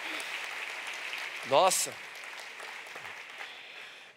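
Steady applause from a church congregation fills the space at moderate loudness throughout, with a voice breaking in briefly over the clapping.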